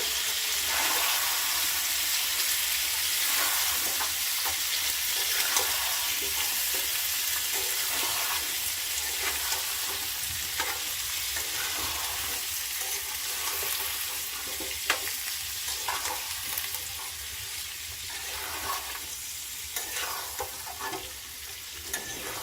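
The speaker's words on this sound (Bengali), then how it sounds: "আমটা দিয়ে নিয়ে নাড়াচাড়া করব" Mango pieces for a sweet-and-sour pickle are stirred in a pan on a stove, a constant close sizzle broken by soft scraping and light clinks of the spoon over a long stretch, with no speech.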